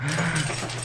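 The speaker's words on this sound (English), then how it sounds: "that's my dog, I'm sorry." A pet dog whimpers and whines softly at close range through most of a short moment, a steady low-pitched tonal whine with slight wavering, indoors near the person.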